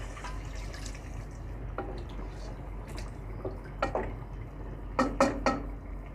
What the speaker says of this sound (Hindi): इस पॉइंट पे अब हम डाल देंगे 2 कप पानी